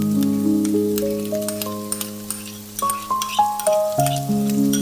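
Prepared sauce poured onto browned beef tenderloin in a hot wok, with the sizzle flaring into several sharp crackling bursts in the second half, under background music.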